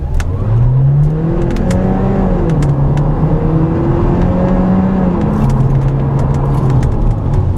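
A hybrid sedan accelerates hard with a loud, close engine note that climbs in pitch over and over as it pulls through the gears. A steady road roar runs underneath.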